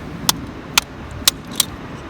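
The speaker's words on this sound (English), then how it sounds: "Give the knife a little knock." A CRKT Homefront knife is knocked to release its parts for field stripping, giving four sharp, bright taps spaced about half a second apart, close and distinct over a quiet background.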